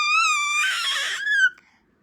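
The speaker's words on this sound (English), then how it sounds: "look at you scream" A tired little boy screams, one sustained high-pitched wail close and loud that breaks into a strained, noisy cry before cutting off abruptly.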